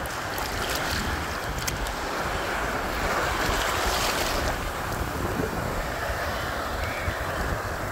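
Rough stormy seas roar continuously, with heavy ocean waves crashing and wind buffeting the microphone, close and loud throughout with no voices.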